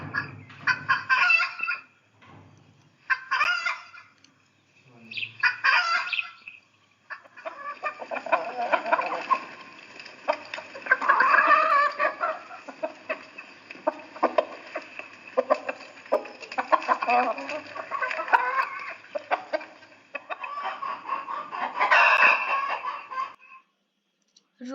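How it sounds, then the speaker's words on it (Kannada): A hen clucks in short bursts at first, then keeps up a steady, fairly loud run of clucks and cackles, heard alone and close. "ಹೆನ್, ಕೋಳಿ."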